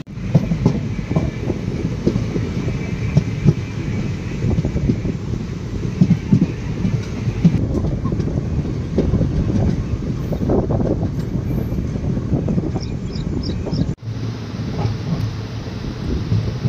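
Mayiladuthurai–Mannargudi Express running on the Thiruvarur–Mannargudi line, heard from on board as a loud continuous rumble with rhythmic clickety-clack of wheels and wind noise, with a brief dip near the end.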